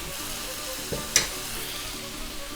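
Pork and potatoes cook in a pan for pork in salsa verde, giving a steady close sizzle with a brief louder clatter near the middle over a faint background hum.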